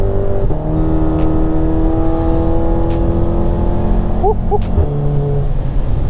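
Stage 2 Volkswagen Golf R accelerating hard, heard from inside as a loud, rising engine drone that climbs through the gears with brief dips at each shift, continuous and close.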